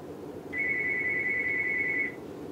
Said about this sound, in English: And my phone's ringing.